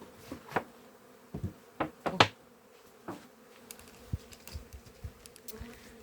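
Honeybees at an open beehive during a colony inspection hum softly in the background, broken by several sharp knocks and clicks of handling the hive, with no voices.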